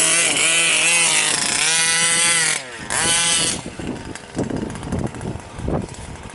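An OBR 32cc engine in a Losi Five B RC car screams at a steady, buzzy half throttle, then cuts off abruptly and sputters back in rough, uneven bursts.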